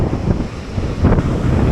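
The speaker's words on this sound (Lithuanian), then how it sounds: "per audra, koks vėjukas dabar, kranto visiškai nelikę" Strong wind gusts buffet the microphone on a seashore during a storm while surf rumbles below, with a loud, uneven roar that surges in the middle and no talk.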